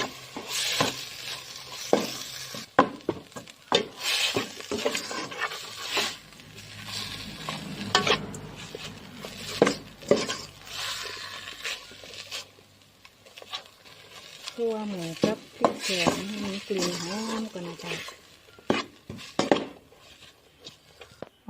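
Pork is stir-fried in a pot for a pickled bamboo shoot curry, with a spatula scraping and clanking against the metal over a steady sizzle; someone talks over the cooking at intervals.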